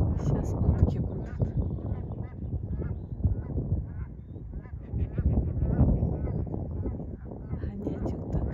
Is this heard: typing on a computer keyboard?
no